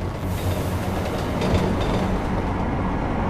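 In Deus Ex: Mankind Divided, a Prague metro train rolls along with a steady, close, heavy rumble and faint rhythmic rail clatter that hold at an even level from start to finish.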